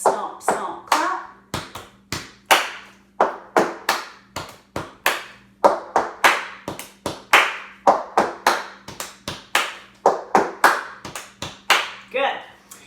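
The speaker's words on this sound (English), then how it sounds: "Stomp, stomp, clap" Body percussion of stomps and claps at a faster tempo, a steady pattern of about two dozen sharp, close hits. The rhythm repeats evenly and a voice can be heard faintly underneath.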